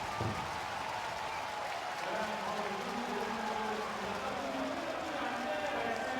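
Japanese fans at Changwon NC Park give a standing ovation as pitcher Koo Chang-mo leaves the mound. Distant, steady crowd applause fills the background beneath a commentator talking.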